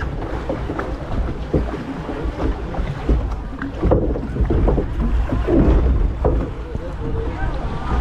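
A full boat on the Wickie Splash water ride at Holiday Park, Germany, carries riders through churning, splashing water with rushing wind noise and bursts of spray.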